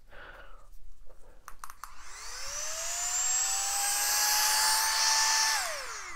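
A small portable pump spins up and runs with a rising electric whine that settles into a steady high-pitched hum, then winds down at the end, close and fairly loud after a few faint clicks.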